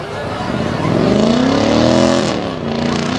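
A loud monster truck engine roars continuously at a Bangor, Maine show, pitch rising and falling as the Grand Cherokee-bodied truck revs and drives nearby, with crowd noise underneath.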